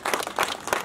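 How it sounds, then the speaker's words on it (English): Attendees at a parents' meeting clap together in a short burst, a scattered patter of hands, moderately loud and fairly close. "whoever's here kindly join us to clap for God"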